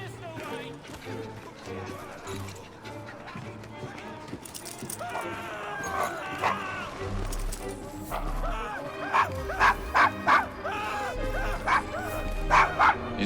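A dog in Assassin's Creed Syndicate barks in a series of sharp, close yaps and whimpers, the barks coming in a quick irregular burst near the end over game music and voices talking.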